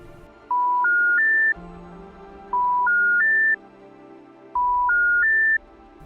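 A phone rings while calling Ryan, the husband, in the zombie video game Outbreak Undead: a clean electronic three-note rising chime repeats three times at an even pace, loud and close, with no talking.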